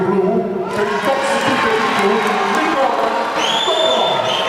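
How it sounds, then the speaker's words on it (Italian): Crowd at an amateur boxing event cheering and clapping after the verdict, a loud, sustained wash of applause and voices with an announcer speaking over it. "ma gli applausi sono per entrambi"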